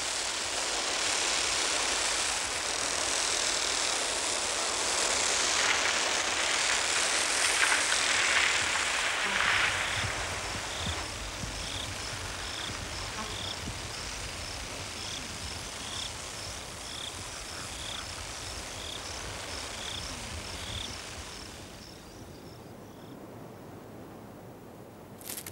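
Locust wings beating in flight make a steady, continuous whirring buzz, loud and close, with a faint rhythmic pulsing on top and no voices.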